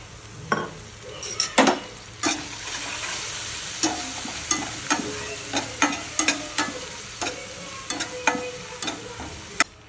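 Boiled rice noodles are stirred and tossed in a pan with soya sauce and Maggi masala. Repeated sharp spatula scrapes and clinks against the metal come in an irregular rhythm over a low, steady sizzle.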